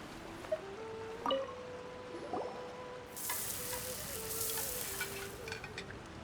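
Food sizzles while cooking in Genshin Impact, a quiet steady frying hiss that swells in the second half, with soft game tones and small clicks over it.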